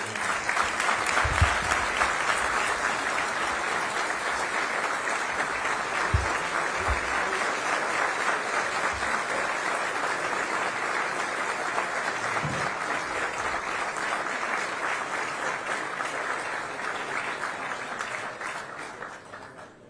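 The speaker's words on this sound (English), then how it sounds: "if we could just give one more round of applause for you" Sustained audience applause for the Secretary at a meeting, a steady dense wash of clapping that holds for about twenty seconds before tapering off at the end.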